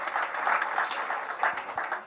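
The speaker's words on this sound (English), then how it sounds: "Give her a round of applause." Brief applause from an audience at a psychic entertainment show as a guest is introduced, a short dense burst of clapping with no voice over it.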